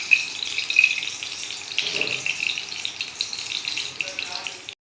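Stuffed bitter gourds frying in oil in a pan, a steady hissing sizzle that runs evenly for about five seconds, close and moderately loud, with no talk over it.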